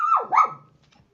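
A dog gives two quick, close barks that sound almost yelped, then a brief quiet tail, with no talking over them.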